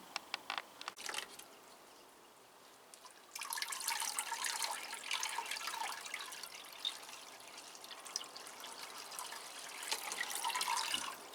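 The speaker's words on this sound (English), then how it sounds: "I'll just water it and go on to the next one" Water poured onto a Phalaenopsis orchid in its pot, a soft broadband splashing and trickling that starts after a few seconds of quiet handling noise and runs steadily to the end, close and moderately loud.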